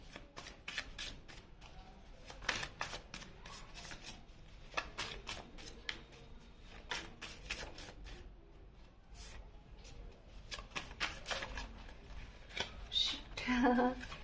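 Tarot cards are shuffled in a quick run of crisp riffling flutters and soft slaps, close and fairly quiet, with a few brief pauses between bursts.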